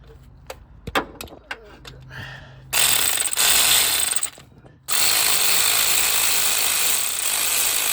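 Serpentine belt tensioner being tightened on a 2008 Acura MDX, a few sharp clicks followed by two loud bursts of power-tool ratcheting close by, separated by a short pause.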